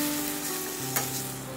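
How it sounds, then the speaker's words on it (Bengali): Vegetables sauté with spices and a little added water in a pan, giving a steady close sizzle with a brief stirring scrape, no voices. "এবার সব কিছু মিশিয়ে নিয়ে মশলার সাথে সবজিটাকে ভালো করে কষিয়ে নেব।"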